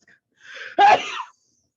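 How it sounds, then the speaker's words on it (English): A single close sneeze with a short inhaled build-up, then a sharp burst that trails off quickly in a quiet room. "I need to sneeze."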